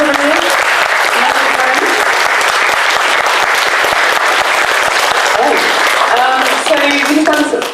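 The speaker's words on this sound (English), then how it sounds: "So round of applause everyone." Workshop audience applauding two voice actors as they are introduced, a dense sustained burst of clapping from a sizeable crowd, loud and continuous throughout with some voices mixed in.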